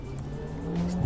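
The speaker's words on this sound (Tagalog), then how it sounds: "may humarurot na kotse dyan." A car speeding past on a road, a brief rising engine tone that builds and brightens toward the end of a short second-long burst, fairly close and loud.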